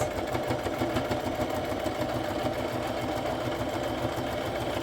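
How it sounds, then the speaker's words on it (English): A sewing machine hums steadily at close range, its rapid rhythmic stitching chatter continuing without pause and no voices. "But I had this already in my sewing machine"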